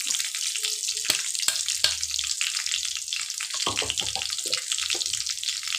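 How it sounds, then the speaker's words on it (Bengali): Crushed spices hit hot oil with a steady, close sizzle and crackle that runs throughout, with a few sharper pops breaking through. "এই ক্র্যাশ করা মশলাগুলো এর মধ্যে দিয়ে দেবো।"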